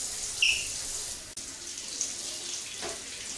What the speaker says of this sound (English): I'm just going to go with hot tap water, as hot as that's going to get for me.